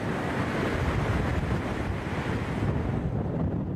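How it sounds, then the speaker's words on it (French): Large waves crash against the coast at Penmarch in southern Finistère, a dense, roaring wash of surf mixed with heavy wind buffeting the microphone, loud and continuous with no talking. "Des vagues impressionnantes frappent depuis ce lundi matin la côte du Sud Finistère, comme ici à Pinmar."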